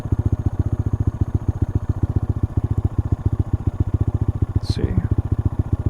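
A Honda Monkey motorcycle engine runs with a fast, even, thumping idle pulse, close and loud throughout, and briefly picks up near the end; someone speaks a few words over it.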